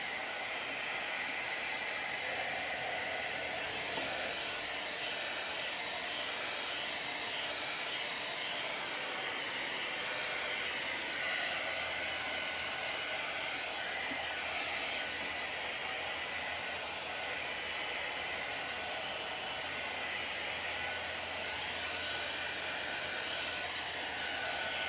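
A handheld hair dryer blows steadily on the freshly painted edges of a craft piece, a loud, continuous close-up whoosh that holds its level for the whole stretch with no one speaking.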